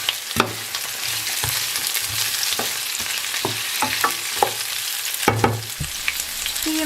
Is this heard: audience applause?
no